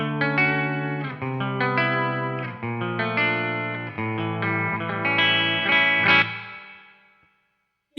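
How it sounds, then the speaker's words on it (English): Clean electric guitar tone through a Donner reverb pedal set to plate reverb, a run of clear picked notes and chords with a gentle ambient tail that rings out and fades near the end. "here's just my clean tone with a little bit of reverb, thanks to the Donner reverb that I have"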